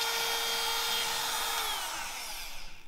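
A handheld power tool deburring a Buick 455 V8 engine block gives a loud, high-pitched whine that holds steady, then winds down and sputters out near the end.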